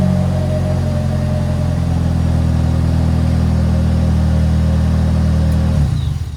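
A 2015 Polaris Slingshot engine idles steadily and loud up close, a constant low rumble holding for several seconds before it fades slightly at the end.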